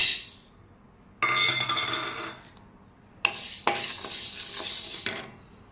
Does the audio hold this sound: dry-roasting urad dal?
yes